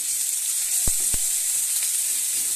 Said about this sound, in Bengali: আমি এবার এর মধ্যে আদাটা দিয়ে ভালো করে আমি ভেজে নেব যতক্ষণ না কাঁচা গন্ধ যাচ্ছে।